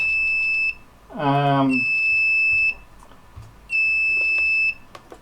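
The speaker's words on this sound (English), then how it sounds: "it's actually a buzzer blinking" Sharp electronic beeps from a buzzer driven by an ESP32 board sound in short tonal bursts, with a voice briefly speaking between them.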